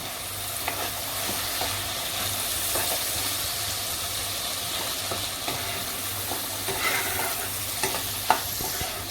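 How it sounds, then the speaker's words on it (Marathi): Green masala sautés in hot oil for a Bombay duck curry, a constant close sizzle with occasional stirring knocks and scrapes, no one speaking. "नंतर आपण हिरवा मसाला बनवला आहे तो घालायचा आहे तेलावरतीच परतून घ्यायचं जरा"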